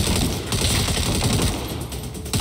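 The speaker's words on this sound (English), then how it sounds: "I'm getting shot!" Heavy gunfire in the video game Saints Row 2, a loud, continuous rattle of rapid shots filling the whole stretch with no pause.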